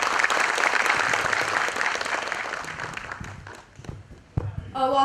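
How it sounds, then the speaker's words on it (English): An audience at a corporate HR conclave applauds after a student performance, with dense, close clapping that thins out over a few seconds and voices breaking in near the end. "Can we have once again a big round of applause for all of them?"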